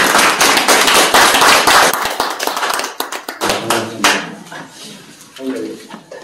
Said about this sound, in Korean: 박수로 봐주십시오.